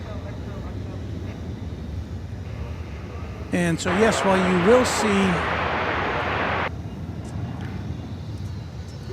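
Jet airliner at Dallas/Fort Worth Airport, with 767 cargo planes among the traffic, roars loud and broadband for about three seconds mid-clip over steady wind and distant rumble, while someone talks throughout.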